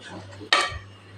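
A spatula scrapes and lifts a crisp fasting thalipeeth off a hot pan, one short metallic scrape and clatter, with a faint sizzle and a low hum around it.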